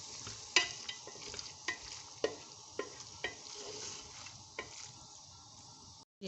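Minced meat keema for a dhaba-style aloo keema fries quietly in a pan while a spoon stirs it, each scrape landing as a sharp clack roughly every half second over a soft, steady sizzle.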